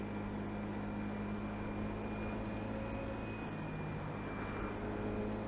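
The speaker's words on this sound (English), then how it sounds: "Go slower, less engine noise." A scooter engine hums at low speed while riding slowly through a Hiroshima neighborhood, a steady droning tone with wind and road noise, constant and fairly close, with no talking.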